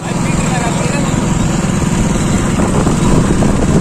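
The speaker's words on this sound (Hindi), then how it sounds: "और दूसरी बाइक पे वो तीनों जा रहे हैं," A motorbike carrying riders along a dark, deserted road near a jungle at night gives a steady, close engine drone mixed with wind rumble, continuous throughout, with voices talking over it.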